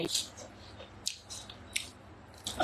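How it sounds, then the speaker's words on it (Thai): Someone eats watermelon outdoors on a bright sunny day, with a few wet, squishy bites and chewing sounds at irregular intervals, close and fairly soft over a faint background. "ยังไม่กินข้าวก็เลยมีแตงโมมากินนะคะ"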